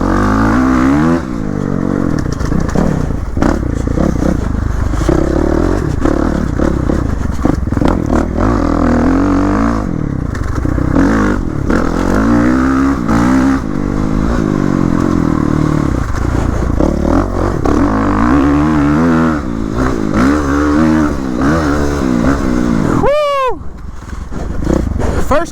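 A Suzuki RMZ-450 dirt bike roars steadily along urban trails, its engine revving up and down with rising and falling pitch and clattering close by, while a rider talks over it throughout.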